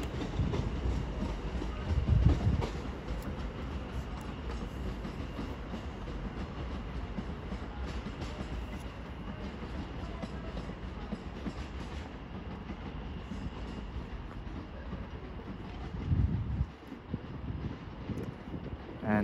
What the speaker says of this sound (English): off goes the 11:30 London Overground service to London Euston